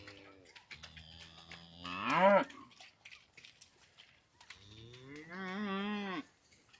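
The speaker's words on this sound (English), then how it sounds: "you can see we moved the cows in here" Cattle in a pasture, freshly moved onto a new strip of grazing, let out two long, drawn-out moos a few seconds apart, fairly close yet moderately quiet, with faint rustling in between.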